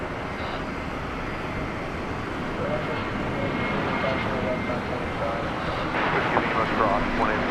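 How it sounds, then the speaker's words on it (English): A Boeing 787 Dreamliner in from San Antonio, Texas, turns in after landing at DFW Airport at night, its engines giving a steady whining rumble that swells slightly toward the end, with some muffled voices nearby. "Watch this Dreamliner turn in after that arduous flight from San Antonio,"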